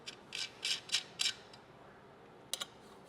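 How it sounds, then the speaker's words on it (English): Small 3mm Allen wrench tightening screws on the feet of a switch panel mounting bracket: a run of quick metallic clicks and ratcheting ticks in short bursts, then a pause and a final pair of clicks, close and quiet. "we'll use a 3mm Allen wrench to tighten these up"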